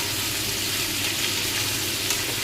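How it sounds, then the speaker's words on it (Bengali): Potato curry with turmeric is stirred in a pan, giving a continuous hiss of frying oil with soft scraping, steady and close without talk. "আর দিয়ে আমি একটু নাড়াচাড়া করে দেবো"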